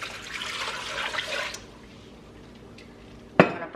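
Water poured into a stovetop pot holding about two pounds of chicken, a steady splashing pour for about a second and a half, then a quieter lull and a sharp clank of the pot near the end.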